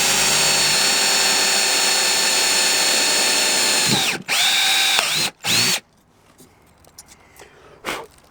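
A power drill whines loudly and steadily for about four seconds, then revs down and stutters in short bursts before stopping.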